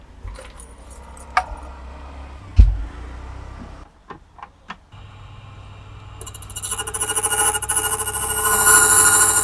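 Key cutting machine making a key at a locksmith's stall, beginning with scattered metallic clinks and jangles and a sharp knock, then a rising continuous grinding whir that grows loud and sustained toward the end.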